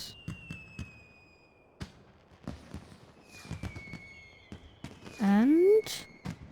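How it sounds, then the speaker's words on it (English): Fireworks at a Final Fantasy XIV summer seasonal event in a video game, with a series of sharp crackling bursts and thuds spread across the clip, under a sustained whistling tone, game music and a rising voice-like sweep near the end. "fireworks!"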